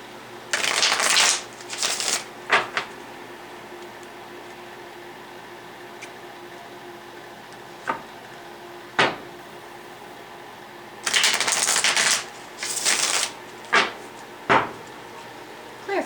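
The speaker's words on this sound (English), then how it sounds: "2 more shuffles." Tarot cards shuffled in close, crisp riffling bursts, two long shuffles at the start and end with scattered card taps and flicks between them, no talking.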